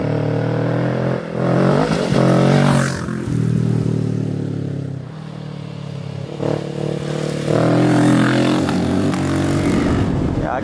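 A Kawasaki NX500 motorcycle with a stage 1 tune accelerates hard in repeated surges, the engine note climbing and dropping between gears, loud and close over rushing wind noise.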